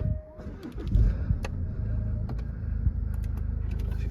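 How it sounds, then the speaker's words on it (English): A Jaguar XF 2.2d diesel R-Sport Sportbrake automatic turns over and fires up, settling into a steady low idle rumble heard from close by, with a few faint clicks over the engine. "I'll just start the car up."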